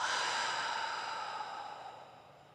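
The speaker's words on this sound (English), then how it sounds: "We'll inhale and exhale." One slow, audible breath out, a soft airy sigh that starts fairly strong and fades away over a couple of seconds, close and quiet, with no talking.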